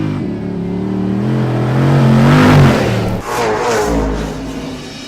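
A 470-horsepower 6.4-liter Hemi V8 in a Jeep Grand Cherokee SRT8 revs loud and close, its deep engine note climbing and falling through a long throaty rev before settling back down.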